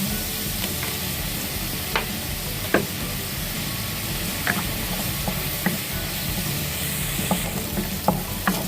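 Food frying in oil in a pan, with a steady sizzle and occasional sharp pops and stirring scrapes, close and continuous without talk.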